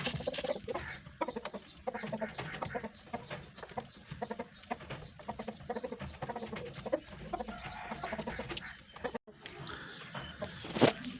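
Backyard chickens, a hen among Lasani and Java Shamo cross fowl, give repeated soft clucks and coos, irregular and moderately close, with some other bird calls mixed in and no talking.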